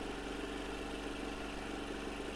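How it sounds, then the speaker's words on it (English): A moped engine from a visual novel runs at a steady, even idle, a continuous low hum with fine mechanical ripple and no pauses throughout. "You guys are riding a literal fucking moped."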